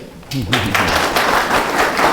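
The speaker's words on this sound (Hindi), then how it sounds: "थोड़ा सा हम लोग ताली मारेंगे" At a village gram sabha meeting, a crowd breaks into brief applause, a dense patter of many hands clapping together and carrying on steadily after a voice is heard speaking.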